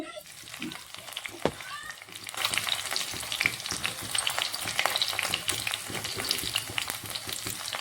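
Potatoes frying in a pan, a dense close-up crackling sizzle that swells after a couple of seconds and holds steady, with occasional utensil knocks at the start.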